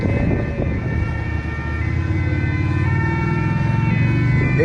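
An ambulance siren at a street scene in Nice, France, wailing steadily and loudly over a low vehicle rumble without pause.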